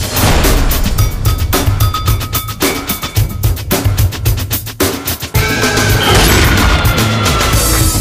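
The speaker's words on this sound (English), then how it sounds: "This is a Colt M4-A1 that shoots a 223 round." A Colt M4-A1 rifle fires .223 rounds in a rapid series of sharp, loud, close cracks with brief gaps between shots, no talking.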